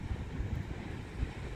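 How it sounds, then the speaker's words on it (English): Wind gusts buffet the microphone on a windy morning outdoors, a low rumbling roar with uneven surges across a short stretch, no voices. "Another windy day."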